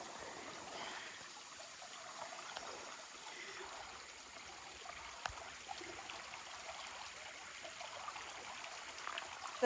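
Pickle Creek at Hawn State Park flows in a soft, continuous trickle and gurgle, a gentle nearby stream with no voices over it.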